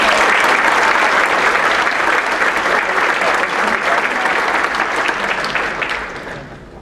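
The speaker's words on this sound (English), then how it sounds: "So please give Roger and David a round of applause." Loud, sustained audience applause for two award presenters at a National Philanthropy Day fundraising professionals awards event, dense steady clapping that fades near the end.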